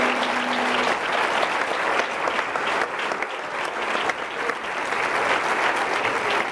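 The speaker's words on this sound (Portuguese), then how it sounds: "Pode aplaudir." A church congregation applauds during a worship service, a dense, steady wash of many hands clapping close and loud, running unbroken for several seconds with a faint tone at the start.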